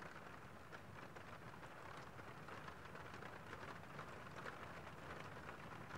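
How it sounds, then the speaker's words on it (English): Rain falls in a soft, steady wash with faint patter throughout, quiet and even, with no voices. "the sound of the rain helps you to tune out."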